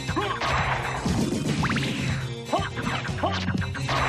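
A ceiling is smashed through in Castlevania: Symphony of the Night, with a cluster of crashing, crunching impacts and debris hits over busy game music and effects.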